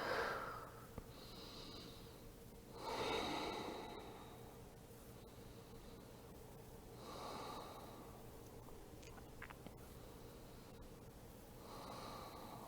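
Slow, audible breaths during a yoga pose come in long inhale and exhale cycles, soft and close, with nasal airiness and no talking.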